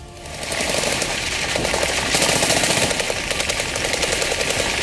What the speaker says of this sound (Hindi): खुद को घिरा देख सिमी के आतंकियों ने की फायरिंग।